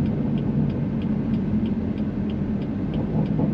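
A BMW M3 Stage 2 with an SSR downpipe accelerates, giving a steady, dense low engine rumble that holds an even level throughout, with no voices.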